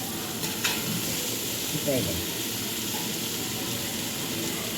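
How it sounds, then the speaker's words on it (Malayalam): Coconut pieces sautéing with onions in a pan, a soft, fairly quiet steady sizzle with a couple of brief scraping stirs partway through. "തേങ്ങാക്കൊത്ത് നല്ലോണം ഉള്ളിയിലിട്ടൊന്ന് വഴറ്റണം."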